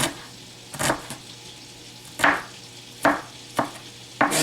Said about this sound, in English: let's just go ahead and chop up these onions